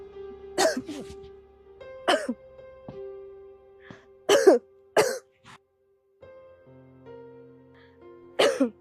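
Woman coughs in five or six harsh, separate bursts with short pauses between them, close and loud over a faint steady hum.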